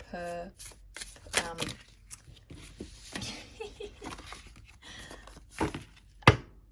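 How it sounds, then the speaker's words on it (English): Tarot cards being shuffled in short riffling bursts, with a voice speaking intermittently between them and a sharp tap near the end. "put that into the deck as I shuffle"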